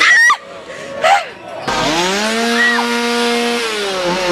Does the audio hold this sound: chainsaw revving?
yes